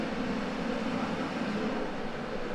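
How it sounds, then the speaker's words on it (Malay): An electric kettle near to boiling gives a steady, constant roaring rumble with a broad, noisy hiss, unchanging in level throughout, close to a condenser microphone in a room. "adakah super cardioid mic ni boleh cancel tak bunyi tu kettle. Memang bising gila bunyi dia."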